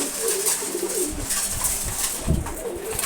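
Pigeons coo in a group during a morning feeding, soft low rolling calls layered over a constant, fairly loud background hiss and bustle.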